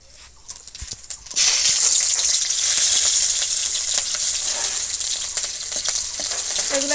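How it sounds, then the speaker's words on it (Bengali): Cumin, nigella seeds and slit green chilies hit hot oil in a wok: a few faint clatters, then a sudden loud, steady sizzle that continues at close range. "কড়াইতে দিয়ে দিলাম তেল গোটা জিরে কালো জিরে আর দুটো কাঁচা লঙ্কা চেরা দিয়ে দেবো"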